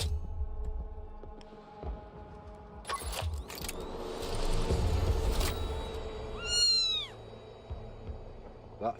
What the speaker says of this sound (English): That's the only sound effect that I have is a cat.